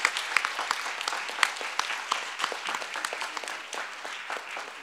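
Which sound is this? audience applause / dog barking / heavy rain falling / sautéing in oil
audience applause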